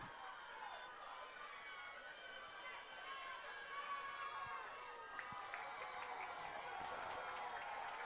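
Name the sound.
Middle Township home crowd cheering at a football game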